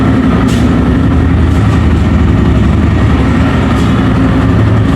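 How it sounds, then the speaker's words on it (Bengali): A TVS Raider 125cc motorcycle engine idles loudly and close by, a steady low rumble that holds the whole time without changing pace. "তো এখন আমি জাস্ট খালি বাইকটি স্টার্ট দিয়ে দেখিয়ে দিচ্ছি আপনাদেরকে।"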